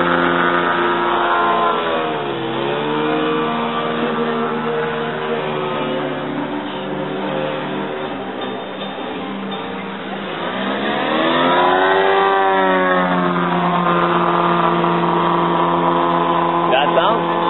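A car engine that runs rich and trails heavy exhaust smoke revs loud and close for a long stretch, its pitch rising and falling in sweeping surges.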